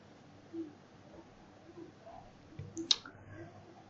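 A single soft computer mouse click sounds near the end of a quiet stretch, brief and faint over a low background hiss.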